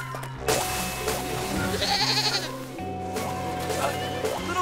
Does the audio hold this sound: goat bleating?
yes